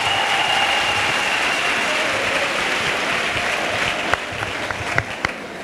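A church congregation applauds for Jesus Christ, steady dense clapping throughout with a few sharper claps standing out near the end.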